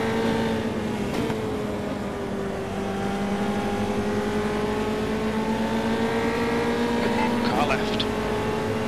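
Formula 3 race cars at Oulton Park, a steady loud engine drone with harmonic whine shifting gradually in pitch, brief bursts as cars close in, under continuous race commentary.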